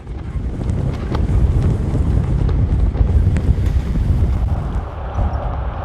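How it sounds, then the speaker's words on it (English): Strong wind over a hilltop cemetery with distant mountains in view, a steady loud rumbling rush with gusts buffeting close by, no voices. "today it is very windy"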